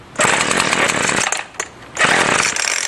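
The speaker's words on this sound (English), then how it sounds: "I got it full choke and I pull it full throttle till it starts and dies" A gas string trimmer set to full choke and full throttle fires up as a loud, close, raspy two-stroke roar, cuts out briefly, then roars again.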